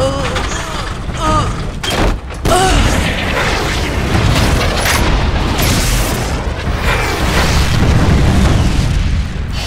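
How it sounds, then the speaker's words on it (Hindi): Rapid barrage of booming explosions from a micro missile attack in a Hindi animated children's car-racing cartoon, loud and dense throughout with a few sharp bursts near the start. "ये लो, माइक्रो मिसाइल आक्रमण।"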